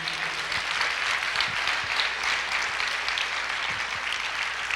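A church congregation applauding, a dense, steady wash of many hands clapping at once, loud and sustained throughout without pause.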